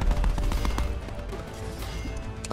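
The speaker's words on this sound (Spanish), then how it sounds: "Apuntando con la ametralladora ligera." A light machine gun fires in rapid, dense bursts in a Call of Duty match, the game's clattering gunfire and impacts filling the short stretch alone without talk.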